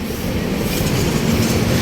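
Riding the MRT train in Manila: a loud, close, steady rumble of rail wheels with rhythmic clatter, no one talking.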